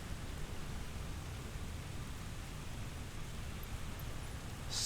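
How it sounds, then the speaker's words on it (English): Simulated rain from the video game Microsoft Flight Simulator hisses as a steady, even wash of noise with no breaks, and a faint rumble swells slightly at the end. "I'll let you listen to the rain effects there as well"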